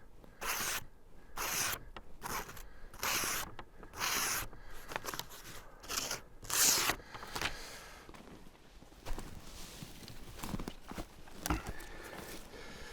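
A SanRenMu 611 folding knife saws through nylon mooring rope in a series of rasping, fibrous strokes, close and moderately loud, followed by quieter rubbing and a few light knocks, with no talk.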